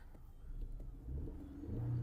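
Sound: Audi A4 B7 engine running

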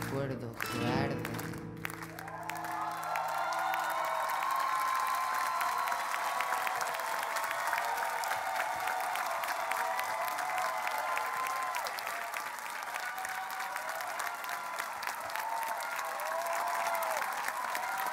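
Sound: audience standing and applauding

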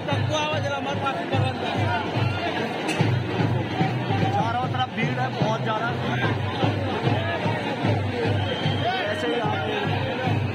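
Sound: crowd chatter at packed village fair

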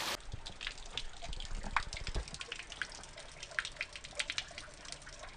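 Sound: water flowing out of a spring

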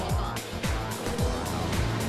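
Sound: race car engine at Tsukuba Circuit

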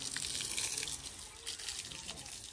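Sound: water being poured onto bricks at construction site

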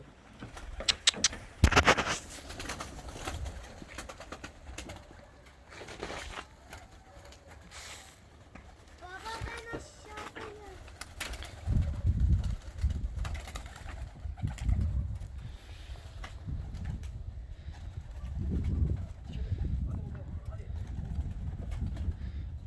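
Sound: pigeons in a coop

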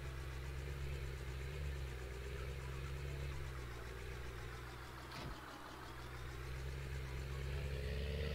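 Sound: tractor engine running

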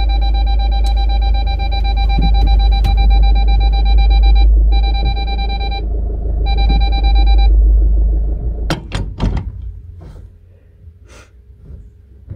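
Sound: vehicle reversing beeper

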